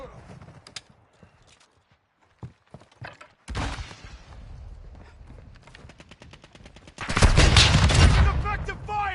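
Gunfire in a video game firefight comes as scattered single shots and short bursts, then a loud, sustained volley near the end, with mechanical clatter between the shots.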